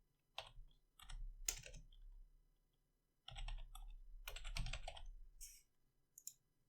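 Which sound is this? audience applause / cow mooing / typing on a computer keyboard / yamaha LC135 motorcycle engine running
typing on a computer keyboard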